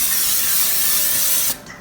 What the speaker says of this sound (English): I have some more of this grilling spray here. Just gonna spray it down.